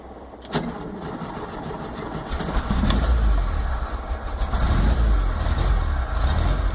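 A Volkswagen T25 campervan with a chokeless Weber IDF carburettor cranks over cold and catches, its engine rising to a low, rough rumble that builds and holds, heard up close with no talk.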